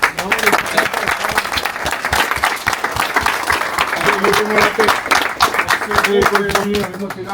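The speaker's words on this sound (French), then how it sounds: "on peut tous s'applaudir les mecs" Football players applaud together after a Coupe de France second-round cup match, a dense, steady burst of clapping from a close group, with voices calling out over it.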